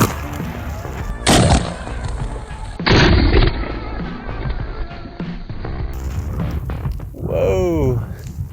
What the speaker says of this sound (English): We've really got to back it up here to see the full effect of this Dragon's Breath round.